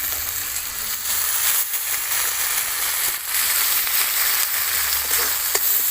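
Fish curry with chopped tomato and coriander leaves sizzles steadily in a hot pan, a dense crackling hiss broken by soft scraping and clinks as it is stirred.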